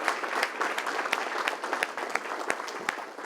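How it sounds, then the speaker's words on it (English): Round of applause from an audience at a gathering, many hands clapping in a dense, steady stream with sharper individual claps popping out, sustained throughout at moderate volume. "could we give him another round of applause, please?"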